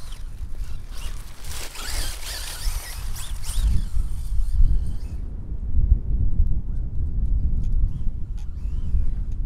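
A Traxxas Slash two-wheel-drive RC car with a 4S brushless motor, driven on stock tires, revs and whines as it drives nearby, its gritty tire and motor noise rising and falling continuously.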